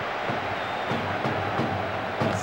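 A stadium crowd in the PS2 football game PES 2007, during a Real Madrid versus Barcelona match, keeps up a steady, dense roar of cheering throughout, with faint commentary underneath.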